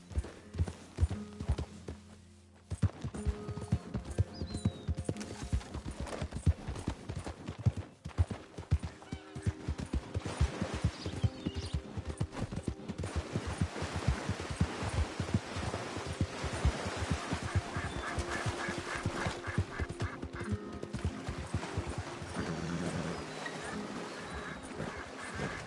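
Horse hooves clip-clop in a steady, continuous rhythm while riding in Red Dead Redemption 2, with game ambience and occasional soft sounds beneath.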